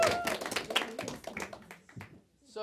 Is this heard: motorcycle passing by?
no